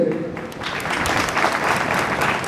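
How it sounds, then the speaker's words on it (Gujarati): Applause from an audience at a community award and felicitation ceremony in Bhavnagar, a dense, steady wash of many hands clapping together for a few seconds, loud and close with faint voices mixed in. "તાળીઓથી સૌને પ્રોત્સાહિત કરી"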